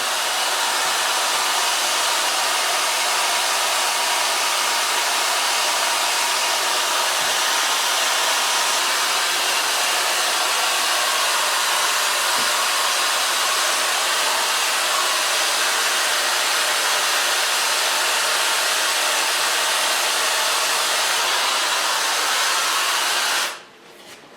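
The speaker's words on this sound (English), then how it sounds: "So far blow drying." A hair dryer fitted with a diffuser blows steadily on hair for over twenty seconds, a loud, constant whooshing roar close up that stays even throughout and then cuts off abruptly at the end.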